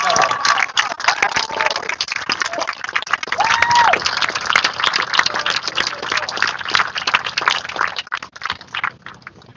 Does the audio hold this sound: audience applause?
yes